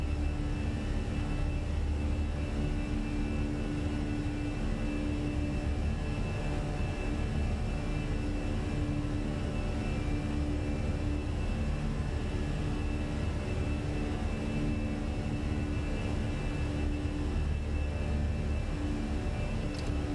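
An Airbus A320 climbs out of Guadalajara just after takeoff in Microsoft Flight Simulator 2020, giving a steady, constant engine drone with a continuous hum and whine held at an even level throughout, with no talking.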